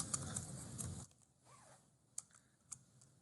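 A few light keystrokes tap on a computer keyboard as an Excel formula is typed, faint and sparse after a short burst of background hiss, with no talking.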